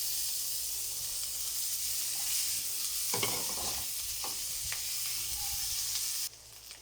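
Onions sauté with garlic in a pan for bangus with tofu and black beans, a constant loud sizzle with occasional stirring scrapes, cutting quieter near the end.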